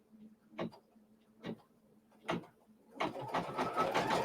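A sewing machine stitching down fabric: a few isolated clicks, then a steady rapid run of stitching close by, fairly quiet, with no talk over it.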